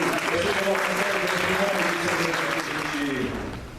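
A church congregation applauds in sustained, dense clapping that fills the room at a steady level, with voices mixed in, and trails off slightly near the end.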